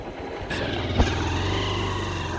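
A motorcycle engine idles close by as it is being parked, a steady low throbbing rumble with a brief clunk partway through.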